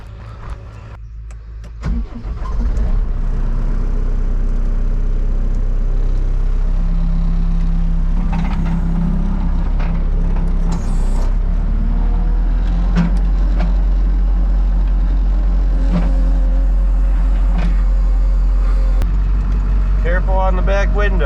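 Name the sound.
truck engine during a short drive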